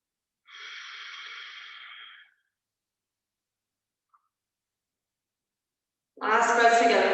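A yoga class exhales together in a long, audible sigh, a soft breathy rush lasting under two seconds, then silence before another full, louder breath swells at the end, close and unaccompanied by talk.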